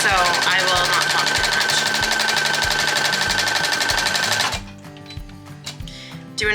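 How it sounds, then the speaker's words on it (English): A sewing machine running a straight stitch, a loud fast rhythmic mechanical chatter that stops abruptly, followed by quieter clicks and handling noises. "So now we're just gonna do a straight stitch, and if you don't know how to sew, you're just gonna do a back stitch once or twice"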